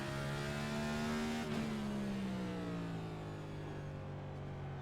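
A race car in the iRacing Next Gen at Martinsville droning steadily, its engine pitch dropping under heavy braking as the rear end comes around, a continuous close motor tone without speech.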